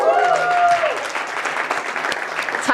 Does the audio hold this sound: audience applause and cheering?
yes